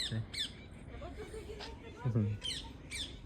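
A parrot perched in a Gujarati village home gives a few short, sharp squawks, heard under ongoing conversation nearby.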